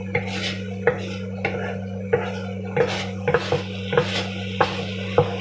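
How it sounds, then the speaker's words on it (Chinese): Soup stirred constantly in a poor-quality pot over low heat, a spoon scraping and clinking against the pot in quick, repeated strokes, around a dozen sharp knocks over a steady low hum. "这时候你需要不停地搅拌，防止这个汤粘糊"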